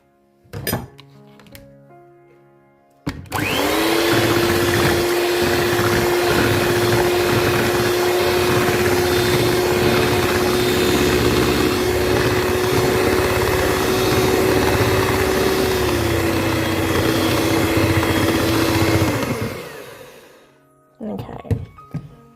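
An electric hand mixer beats a coffee custard tart filling, starting abruptly and running at a steady, loud whir for about sixteen seconds with a sustained motor tone, then winding down and stopping.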